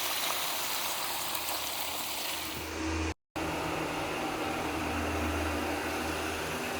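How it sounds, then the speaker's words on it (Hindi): Fish sizzles in hot oil in a pan on a village stove, giving a steady broadband hiss and crackle that carries on without pause, with only a brief dropout partway through. "मछली हमारी फ्राई हो रही थी"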